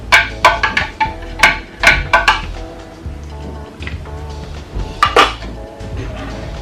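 A spoon clinks and scrapes against a cup while a homemade honey drink is mixed, giving sharp, close metallic taps in quick clusters, then a softer stirring pause and a few more clinks.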